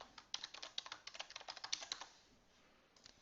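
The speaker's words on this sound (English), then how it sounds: "Let me type in my password." Quick bursts of key presses on a computer keyboard as a password is typed, a close, crisp run of clicks for about two seconds that then tapers to a few stray taps.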